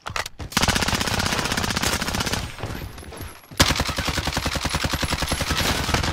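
Rapid automatic gunfire from a Modern Warfare free-for-all match rattles loudly in long sustained bursts, breaking off briefly mid-way before another continuous volley resumes.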